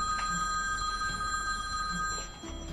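A telephone rings steadily with a bright, electronic tone that holds throughout and fades near the end, loud and close in a drama scene.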